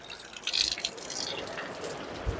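Water trickles and drips from rock inside an ancient cave shrine where water flows all year, a faint, steady wet patter with soft splashy bursts and no talking.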